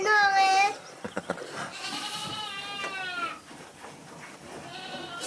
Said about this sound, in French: c'est une chèvre